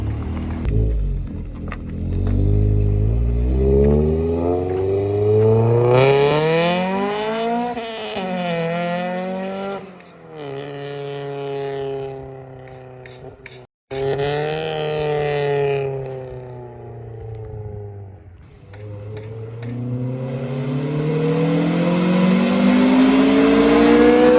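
A Mitsubishi Lancer Evolution GSR engine roars and climbs in pitch through a hard second-gear pull, with gear changes and brief drops, loud and sustained throughout.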